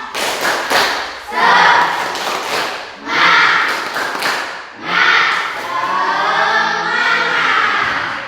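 A classroom of students performs the tepuk semangat clapping chant, loud rhythmic group claps and thumps in bursts with voices chanting along, close and lively in the room.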